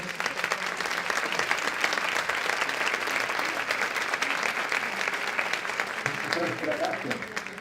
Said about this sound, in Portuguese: Te vamos a brindar un aplauso